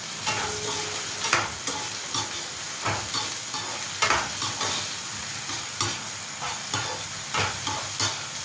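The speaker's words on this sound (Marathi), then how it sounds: "आता आपला कांदा होईपर्यंत फिरवत राहायचं" Onions frying for chicken fry are stirred repeatedly in a pan, with rhythmic scraping strokes over a continuous loud, close sizzle.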